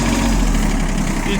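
Japanese ISEKI SIAL TF223F compact tractor engine running steadily in second gear, a close, continuous low rumble with even vibration throughout the short stretch.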